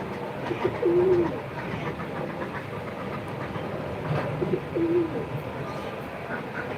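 Low coos from pigeons sitting on eggs in a pigeon loft come in two brief phrases a few seconds apart, close and fairly clear over a steady background murmur.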